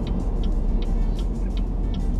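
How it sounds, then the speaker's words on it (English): A Cadillac ATS four-cylinder engine idles up close with a rough, low rumble, steady throughout, with faint rhythmic ticking clicks repeating over it. "The engine in an idle leaves so much to be desired."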